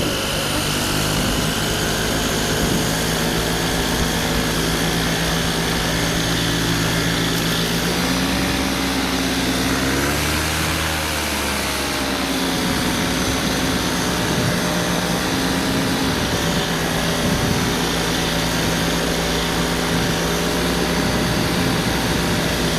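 A paramotor engine drones loud and close throughout a flight over scenic water, a constant buzzing roar that dips briefly in pitch midway before steadying again, with no voices.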